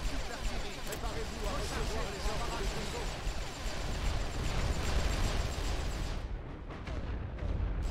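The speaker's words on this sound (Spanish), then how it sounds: "vamos a bombardear aquí" Dense, overlapping booms and rumbling blasts of an artillery bombardment in the video game The Great War: Western Front roll on continuously, a heavy barrage of explosions with a voice faintly mixed in.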